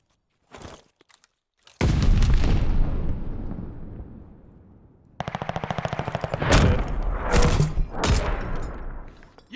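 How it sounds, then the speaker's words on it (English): A grenade detonates in a video game with a loud blast that decays over a few seconds, followed by dense rapid automatic gunfire and further sharp bursts, with no talk. "I'm gonna throw a nade for it"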